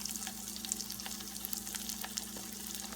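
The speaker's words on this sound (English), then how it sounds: "Now I make fried egg." A single egg fries in grease left over from cooking a T-bone steak, giving a soft, continuous sizzle and crackle with a low steady hum underneath.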